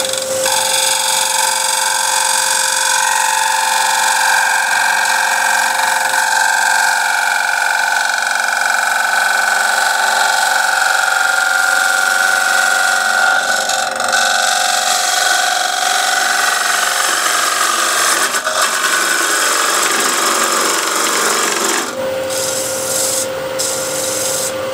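A gouge cuts a wooden bowl spinning on a lathe: a loud, steady scraping whine that runs unbroken for over twenty seconds, then shifts in tone near the end. No one speaks.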